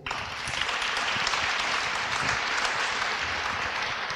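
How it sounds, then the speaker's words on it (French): An audience at a French podcast event on epilepsy applauds steadily, a dense, continuous wash of clapping that stays loud and even throughout. "À vos côtés, le docteur Gabriel Himard, qu'on peut applaudir également."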